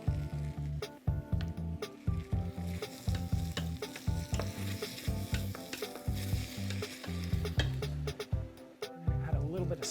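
Food sizzling in a pan with Cajun spice and garlic butter, a busy close crackle and frequent stirring clatter, heard under steady low tonal sound and a speaking voice.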